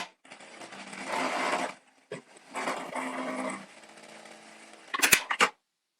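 JK-8559G lockstitch sewing machine running in bursts: a steady motor whir with rapid needle stitching across two longer runs and a short blip, then a few sharp clicks and clacks at the end, with no talking.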